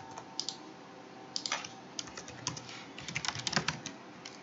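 Quick bursts of keyboard typing, clustered key clicks in irregular runs, close and fairly quiet.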